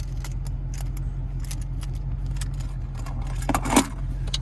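A 2026 Ford Mustang Dark Horse key set with a remote-start fob jangles softly in short clinks against a low, steady hum, with a slightly louder rattle near the end.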